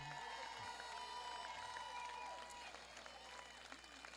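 Applause and cheering from a crowd at the Canadian U15 men's fastpitch softball championship, greeting the Québec teams including Bellechasse; steady clapping fills the whole clip with some tonal noise mixed in.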